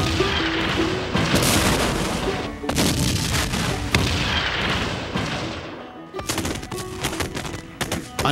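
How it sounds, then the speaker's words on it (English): Lee's artillery bombarding the Federal lines on Cemetery Hill, a loud, dense barrage of overlapping booms and rapid crackling fire that rolls on continuously, with only a brief dip near the end. "Lee's artillery opened a 2-hour bombardment against the Federal lines on Cemetery Hill"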